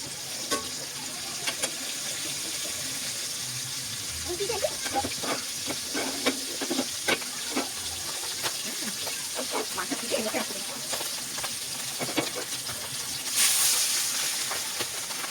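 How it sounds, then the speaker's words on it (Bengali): Hilsa fish frying in hot oil after onions, a soft continuous hiss and crackle with scattered pops and a few utensil clicks, fairly faint and close, with a brief louder burst of sizzle near the end. "ভাজি করবো একটা ইলিশ মাছ ভাজি"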